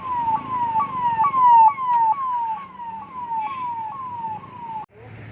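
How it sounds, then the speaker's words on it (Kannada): An ambulance siren wails in a steady repeating falling pattern, moderately loud, as ambulances arrive at an overturned bus on the Bengaluru–Mangaluru road, with faint traffic rumble underneath until it cuts off near the end. "ಆ್ಯಂಬುಲೆನ್ಸ್ಗಳು ಬರ್ತಾ ಇದೆ"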